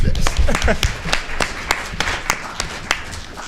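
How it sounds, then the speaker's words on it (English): Audience clapping at a university history book event, individual claps clearly separated and fairly close, spreading into a loose uneven round of applause for a few seconds. "And we need to clap for her."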